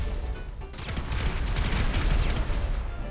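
Dense, loud gunfire and explosions in GTA 5, a continuous rattling barrage with booming bursts throughout and no speech.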